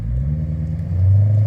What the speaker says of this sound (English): There's an Aussie muscle car drives by.